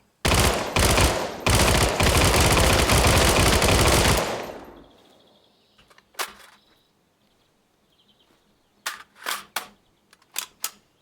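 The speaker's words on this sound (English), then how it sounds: "Who's firing a P90 in semi?" A P90 firing in semi-auto in Gunsmith Simulator: a loud, dense burst of rapid shots at a shooting range, then quiet, with scattered sharp single shots and clicks afterward.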